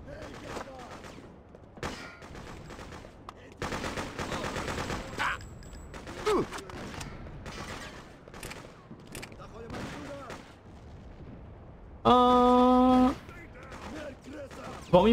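Machine gun fire in the video game Freedom Fighters, rattling bursts and scattered shots amid game noise and a tonal alert, with someone speaking Portuguese over it.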